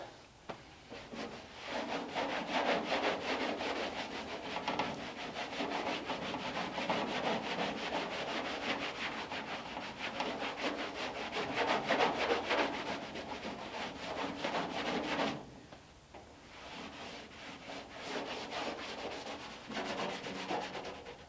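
Aged paint on a 1932 Ford coupe body is scuffed by hand with an abrasive pad. The steady, close rasping rub runs in long strokes, with a brief pause near the end.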